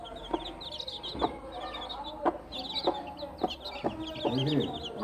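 Hen clucking near her three-day-old chicks, with a run of soft bursts of clucks and faint high cheeps in the background, fairly close and moderately quiet.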